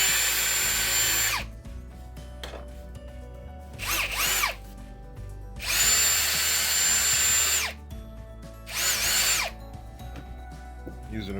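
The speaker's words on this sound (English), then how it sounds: "So I'm just drilling out the feet." Power drill with a 1/4 inch bit boring out the feet of a knife sharpening machine built from a 1x30 grinder: loud whining bursts of drilling that start and stop repeatedly, with quieter gaps between runs.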